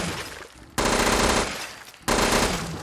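Bursts of rapid SKS rifle fire from a Fallout 4 weapon mod, two sharp volleys of rattling shots separated by a brief gap, loud and close.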